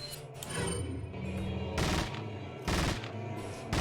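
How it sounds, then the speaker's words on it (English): Rapid bursts of submachine gun fire from the video game Resident Evil 4, loud and close, coming in several sharp volleys separated by brief pauses with a dense, crackling texture throughout. "Someone's shooting an SMG."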